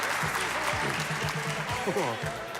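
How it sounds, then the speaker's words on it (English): Audience applause at a live show, a dense sustained clapping from a crowd that runs throughout, with someone speaking over it. "How about a big round of applause for Mr. John Guerrero?"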